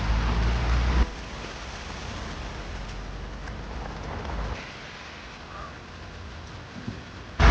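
Heavy downpour drums steadily during an off-road jeep drive near Sakleshpur, a dense continuous hiss that is loudest at first and eases slightly in the second half, with no voices.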